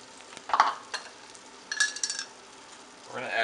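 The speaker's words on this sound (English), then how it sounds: "Give it a little bit of heat, and then we're going to add in our olives and our tomatoes." Olives and tomatoes stirred into a hot pan with oil, giving short bursts of scraping and sizzling in a quiet kitchen, with gaps between stirs and a rising fry at the end.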